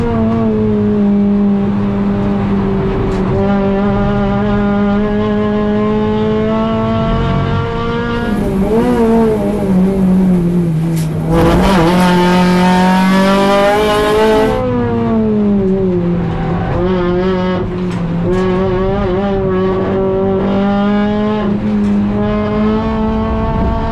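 A car lapping a race track on Pirelli Trofeo R tyres during a track day: its engine drones loud and close throughout, pitch climbing through the gears, dropping under braking, then rising again.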